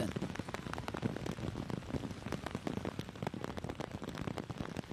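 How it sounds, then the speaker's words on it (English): Rain shower pours over an outdoor girls' under-15 football match between Panama and Canada at the Concacaf championship, a dense, steady patter of drops with scattered sharper splats filling the whole stretch, close and continuous. "you got to improvise when you got rain like this."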